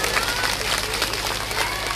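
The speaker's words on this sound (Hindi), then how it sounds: "जोरदार और ताली बजा दो।" An audience at a Bhagwat saptah religious gathering in Khoda, Noida claps loudly, a dense, steady burst of applause filling the space.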